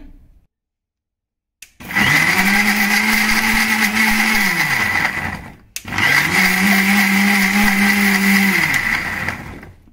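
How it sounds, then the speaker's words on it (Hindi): An electric mixer grinder purees red tomatoes for chutney. After a short pause it runs loud and close in two long whirring bursts, separated by a brief stop. "लाल टमाटर लीजिए बिल्कुल अब हम इनको ग्राइंड करते हैं"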